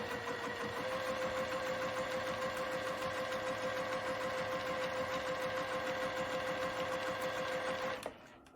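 Sewing machine stitching quilt fabric for a baby quilt, a fast, even mechanical chatter with a steady motor whine, running close and continuous before stopping abruptly near the end.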